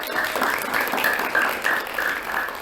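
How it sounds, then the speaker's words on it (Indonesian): Audience applause greeting a guest at a community talk show, a steady rush of clapping with faint, slightly ragged swells that continues throughout. "Beri tepuk tangan dulu dong buat Kak Aurora."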